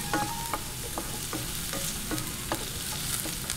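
Star anise sautéing in a hot pan, with a steady frying sizzle broken by light, regular scrapes and taps from stirring, close up, no talking.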